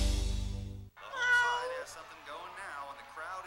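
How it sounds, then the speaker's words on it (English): A chorus of cats meows repeatedly in a rapid, sung rhythm in a 2003 Meow Mix cat food commercial, loud and close. A low, droning tone comes before the meows. "Meow, meow, meow, meow, meow, meow, meow, meow."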